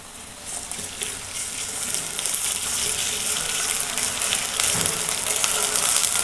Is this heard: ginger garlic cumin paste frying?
yes